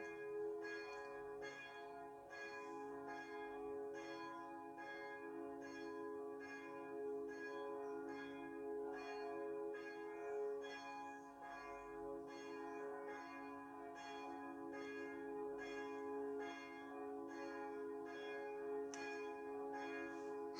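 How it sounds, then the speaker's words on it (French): A long, unbroken peal of church bells, loud and near, with regular strikes layered over a sustained ringing hum and nobody speaking. "Ça doit faire au moins 3 minutes que les cloches sonnent."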